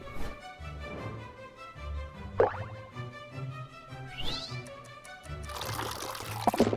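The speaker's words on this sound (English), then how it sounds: "That's a really quick pour." Liquid pours and plops in the video game On Your Tail, with a few short splashy pours over soft background music and a gurgling fill near the end.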